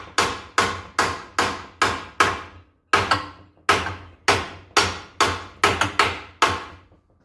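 Steady series of about fourteen sharp metallic hammer blows driving a drift into the inner and outer shell of a 1967 Camaro front end, each strike ringing and decaying quickly, with one brief pause midway.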